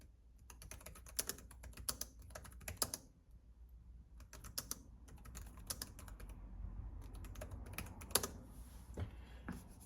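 Keys clack on a Nillkin iPad magnetic bumper keyboard case in bursts of fast typing separated by short pauses, close and fairly quiet, with sharper taps standing out over a low background hum.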